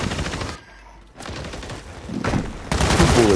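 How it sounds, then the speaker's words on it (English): Bursts of video game gunfire during an online multiplayer match, loud and dense at the start, dropping out briefly, then resuming as heavy continuous shooting near the end. "You shot me twice and I'm dead."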